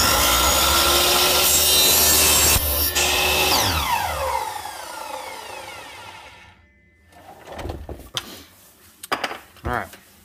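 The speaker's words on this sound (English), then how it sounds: "look how clean of a cut that was. That's why I use a miter saw." Miter saw cutting snowmobile slide hyfax, a loud whining cut for several seconds before the blade spins down, followed by quiet with a few knocks and handling thumps.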